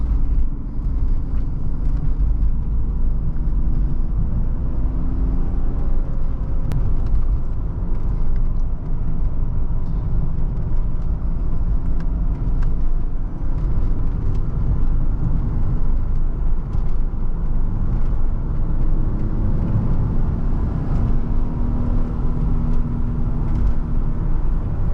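A 1997 BMW 320i M-Sport Touring with a 5-speed gearbox cruising on the road, a steady low engine hum and road rumble from inside the cabin, constant and moderate with no talking.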